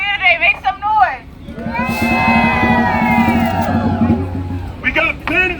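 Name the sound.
protest crowd cheering and making noise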